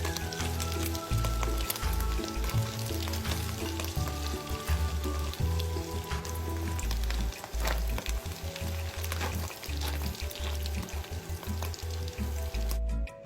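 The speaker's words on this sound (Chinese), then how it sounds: "再倒入香菇爆炒，切片后的腊肠也稍微煸一煸" Shiitake mushrooms and sliced Chinese sausage stir-fried in a hot wok for fried rice: loud, continuous crackling sizzle of oil with frequent clattering stirs and scrapes of the spatula, close and busy throughout.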